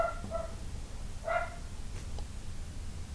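A dog gives a couple of short barks, one pair early and another a moment later, at moderate distance over steady low background rumble, with no talking.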